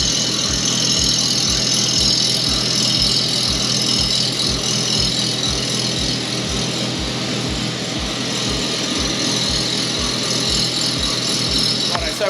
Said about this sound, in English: we've got the cylinder still getting ground behind us here in the Foley machine